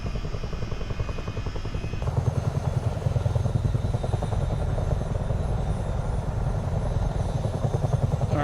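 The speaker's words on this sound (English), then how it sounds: "I always love flying these Chinooks." A Chinook tandem-rotor helicopter flies in Microsoft Flight Simulator 2024, its rotors making a loud, continuous, deep thudding drone with a steady rapid beat and a turbine whine layered on top.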